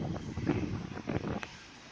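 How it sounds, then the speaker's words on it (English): Gusty outdoor wind buffets a smartphone microphone in uneven rumbling bursts, fairly quiet overall, with no voices. "It's getting windy again."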